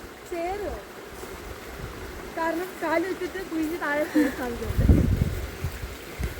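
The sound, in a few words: stream water flowing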